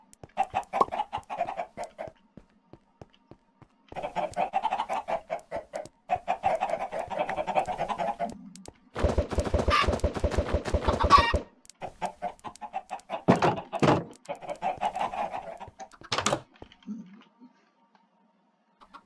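Chickens in the Minecraft video game cluck in short repeated bursts, fairly close and clear, broken by brief gaps and one louder, harsher flurry midway.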